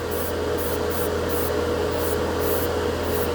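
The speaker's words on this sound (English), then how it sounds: "While I got some left in the cup, let's spray it." Repeated short bursts of airbrush spray hiss, spraying nail polish over white on plastic models, over a constant compressor hum, roughly a dozen pulses in quick, uneven rhythm.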